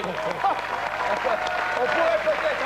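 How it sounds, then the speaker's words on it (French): An audience on a French television show applauds in a brisk, continuous wash of clapping while voices talk over it. "Vous pourriez quand même l'applaudir."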